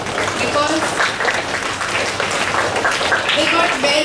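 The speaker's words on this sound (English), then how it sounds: "let's clap for class" Children and teachers at a school assembly clap for a class, a continuous moderately loud patter of many hands with some voices mixed in.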